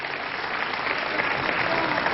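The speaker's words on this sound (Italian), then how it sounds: "è più di un applauso e anche più di un'ovazione" Studio audience at a live Italian TV broadcast breaks into sustained applause and ovation, a continuous, moderately distant wash of clapping with muffled voices mixed in.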